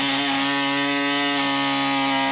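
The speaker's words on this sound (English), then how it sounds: "We'll hole saw it out with this thing." A hole saw cuts through a body panel on a Toyota FJ45 rock crawler, a loud continuous grinding whine with a steady pitch and no pauses, close up.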